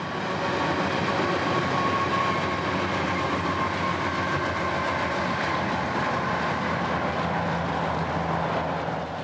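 Freight train EO41 passing on the S-line in Central Florida, a continuous loud rumble and roar of wheels and cars rolling by, no voices.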